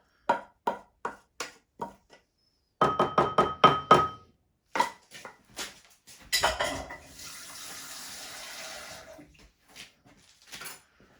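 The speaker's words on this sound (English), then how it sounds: "just put a little bit more water in" Kitchen sounds while cooking a WW2 ration recipe: a run of sharp clinks of utensils against a pot, a short burst of rattling, then a steady splash of a little water poured into the cooking pot, close and moderately loud.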